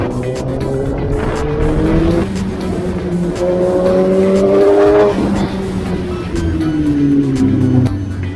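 A yellow car driven recklessly roars along close by with a loud, continuous engine note. Rising and falling whines and tire squeals run over the roar, with no pause between them.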